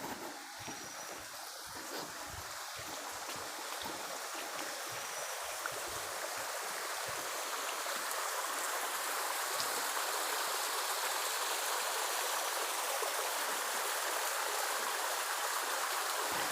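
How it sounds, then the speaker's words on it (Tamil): Small forest streams trickle and rush in a steady, even wash of water, alone and fairly close, on a misty walk through elephant forest. "சின்ன சின்ன ஓடைகள் நிறையாவே இருக்குது"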